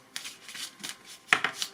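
Tarot cards are shuffled by hand in a few quick, close riffling bursts, soft papery flicks separated by brief pauses, with no voice over them.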